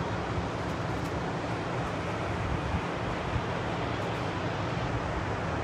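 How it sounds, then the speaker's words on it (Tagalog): Ocean surf breaking at a surfing spot in Capitola, California, a steady broadband wash of waves with wind buffeting the microphone throughout, continuous and fairly loud with no distinct pauses. "malalakas na ang alon"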